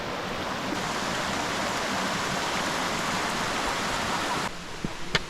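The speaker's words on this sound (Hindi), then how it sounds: "ये पहाड़ों के झरने, पहाड़ों के छोटी छोटी नदियाँ" Mountain streams and small waterfalls along a trail in the Himalayan hills, a steady, close rush of running water, broadband and unbroken, easing slightly near the end, with no voices.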